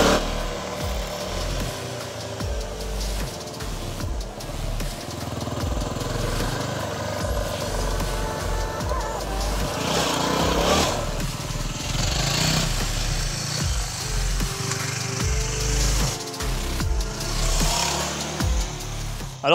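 A motorcycle circling a technical yellow practice track, its engine buzzing and revving steadily throughout with rises and drops as the rider works the throttle, loud and continuous with no talk.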